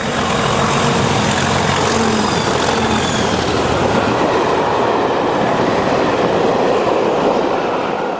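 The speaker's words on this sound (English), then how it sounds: "tied it on to 37427 for a run from Linlithgow to Shrewsbury" A UK charter train hauled by class 37 diesel locomotive 37427 roars past, loud and close, a dense, continuous rumble of engine and rolling wheels with no talking.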